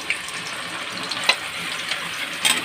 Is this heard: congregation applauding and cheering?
no